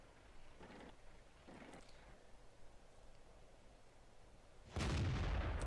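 A single loud, sharp blast from an AT-7 tank gun in a tank battle video game erupts near the end, after several seconds of low engine rumble and faint distant gunfire.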